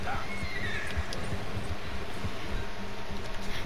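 Rhythmic hoofbeats of a horse galloping in the Red Dead Redemption video game repeat steadily under a continuous game ambience, close and moderately loud.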